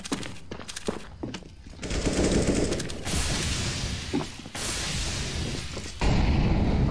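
Repeated gunfire bursts in the shooter game CS:GO, loud and close, with sharp cracks clustered in the first two seconds and dense sustained firing or impacts through the rest of the stretch, no talking.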